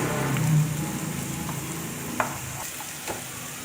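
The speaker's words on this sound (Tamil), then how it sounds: "இதை கிளறி விட்டுட்டு நம்ம இப்போ முட்டையை இதில் ஆட் பண்ணிக்கலாம்" Beaten egg sizzles and fries in a pan beside leftover chapati pieces while a spoon stirs it, giving a steady soft crackle with a few sharp scraping clicks, close and without any talk.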